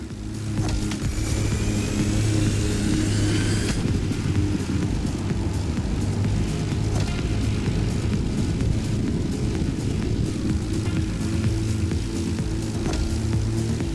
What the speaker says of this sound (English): Here the plane will have to make very tight turns if it wants to keep up with the AGP